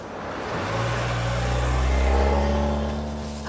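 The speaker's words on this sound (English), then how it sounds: "I think I hear Shackleford's car" An animated cartoon car pulls up, its mid-pitched engine humming steadily and swelling louder before easing off slightly, with no voices over it.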